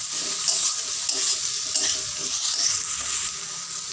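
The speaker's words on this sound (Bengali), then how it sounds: "এবার দিয়ে দেবো কেটে রাখা এরকম সাইজের বেগুন দিয়ে আবারও কষে নেব।" Eggplant pieces fry in oil after ginger paste, stirred continuously with a hissing sizzle and soft scraping strokes, close and steady, with no voices.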